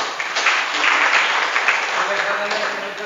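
A ceremony audience breaks into applause, a dense, loud, steady patter of many hands sustained throughout without a break.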